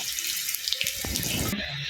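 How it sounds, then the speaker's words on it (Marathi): Water pours steadily into a pan of mustard seeds, curry leaves and green chillies in a continuous hissing splash, close by, with a few small clinks and drips mixed in. "आता याच्यामध्ये ना मी पाणी घालणार आहे"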